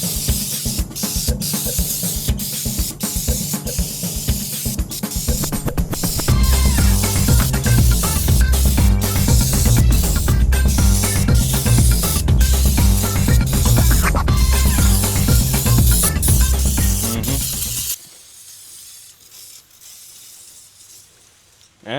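Carb cleaner is sprayed onto a muscle car during paint prep, a loud, close, continuous aerosol hiss with brief bursts at first, then a long steady spray that cuts off near the end.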